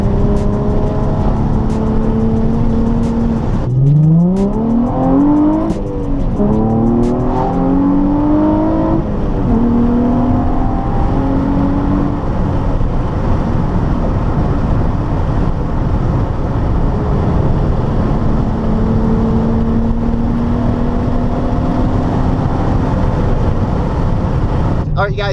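A 2006 Nissan 350Z with its muffler deleted drives along, heard from inside the car: the engine note rises through several gears with deep, loud exhaust drone and shifting revs over steady road noise.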